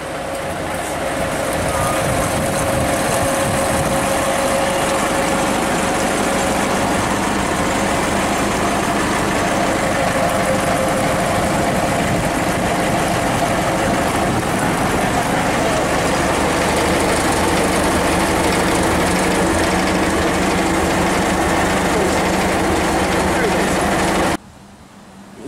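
Rusty, a narrow-gauge steam locomotive on the Talyllyn Railway in Wales, running with a continuous mechanical rumble and steady hum that holds at a fairly even level for about twenty-four seconds before cutting off abruptly.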